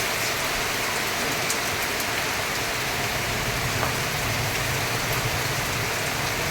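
Heavy rain pours steadily with a constant broad hiss and occasional distinct drips, close and unbroken throughout.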